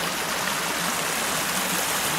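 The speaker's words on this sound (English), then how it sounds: "This Calabash Creek coming through these rocks." Calabash Creek flowing through rocks, a steady close rushing and gurgling of water that fills the whole stretch without pause, no voices over it.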